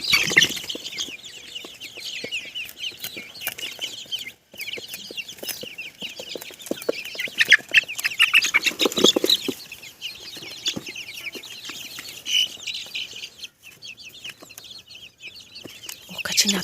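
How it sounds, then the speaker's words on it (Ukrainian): Ducklings and chicks scurrying about on grass outdoors, with steady peeping and clucking, bursts of wing flapping and rustling close by, plus occasional faint voices nearby. "Каченята он побігли до води."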